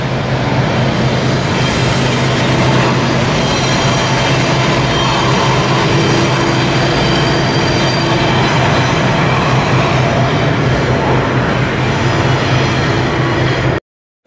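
A loud train rolling past close by, steady roar of wheels and rumbling cars with faint squeals, cutting off abruptly at the end.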